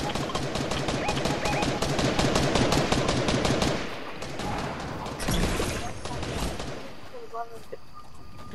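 Rapid gunfire in the Fortnite video game, a dense burst of shots for about four seconds and then scattered blasts and crashes, with people talking over it.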